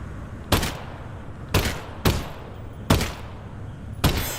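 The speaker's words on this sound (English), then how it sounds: "So I'll see if I can shoot his tank." Five separate gunshots in Half-Life: Alyx, fired at a Combine tank. The loud, sharp cracks come at uneven intervals over a low ambient hum.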